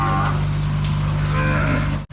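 Breeding bull and cattle mooing on a Thai cattle farm, a loud, sustained low bellow filling the clip with another drawn-out call layered over it, close to the microphone, no talk.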